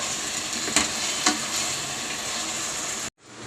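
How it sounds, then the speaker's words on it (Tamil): Vegetables and peas sautéing for vegetable pulao, a steady close sizzle with a couple of soft stirring knocks, cutting off abruptly near the end. "இப்போ நம்ம கொஞ்சம் வதக்கிக்கலாம்."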